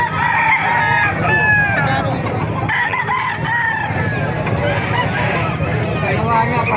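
Several Melsim Black gamefowl roosters crow loudly in quick succession at a bird farm in Calumpit, Bulacan, with overlapping calls, clucking and steady background noise throughout.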